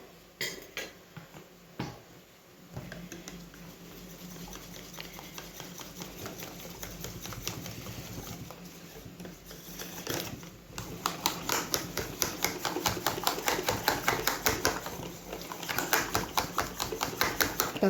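Fast, steady whisking of pancake batter in a bowl, a dense rhythmic clatter of a whisk against the sides that grows louder and brisker toward the end.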